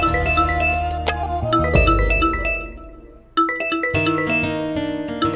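Mobile phone ringing with an incoming call indoors at home, a loud, bright electronic melody that repeats its tune, briefly breaks off, then resumes.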